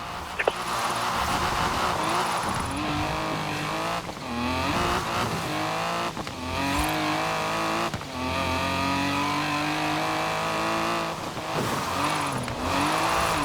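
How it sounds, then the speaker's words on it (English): Tyres squeal from a drifting 1969 Ford Mustang Boss 302 in the racing game Forza Horizon 4, a loud continuous screech with wavering pitch over a steady revving engine, sustained for the whole stretch with a few brief dips. "Now let's really shred those tyres."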